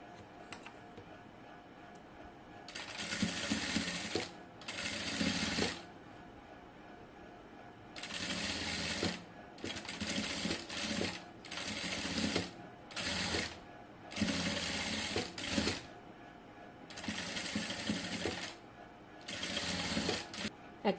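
A sewing machine stitches cut work lace, running in short rattling bursts of a second or two separated by pauses, about ten runs in all, close and clear.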